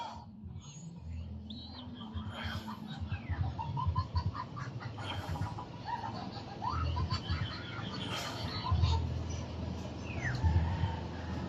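Chickens cluck softly in a farmyard, with chirping birds and low outdoor rumble throughout.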